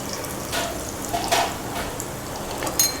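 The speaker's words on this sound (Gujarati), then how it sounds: "અને આને તળવા મૂકી દઈશું" Cheese chilli balls frying in hot oil over a medium flame, giving a steady close sizzle with a few brief clinks of utensils against the pan.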